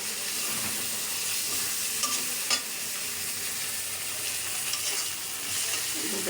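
Tomato chutney in a pan with coriander leaves added, a spoon scraping and stirring through the thick mixture over a low continuous sizzle, with a few sharper clinks along the way.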